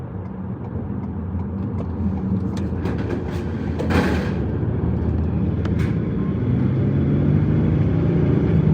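A car drives along a road, heard from inside the cabin as a steady low road and engine drone, with a brief brighter whoosh partway through.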